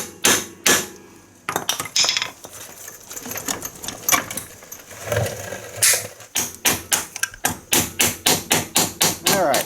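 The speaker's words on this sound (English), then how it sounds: "Now we can tap that bolt out that we just removed the nuts from." A hammer taps a bolt out of a Polaris Sportsman 500 ATV rear axle hub through a wooden block, giving sharp metallic knocks, first scattered and then a fast, even run of close, loud strikes.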